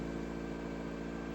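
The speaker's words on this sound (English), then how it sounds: "If you want to give it a few more revs, Dave, just let's have a listen to it." A Toyota MR2 AW11 engine runs at steady elevated revs, a continuous mid-pitched drone heard close by and alone, without distinct rises or falls.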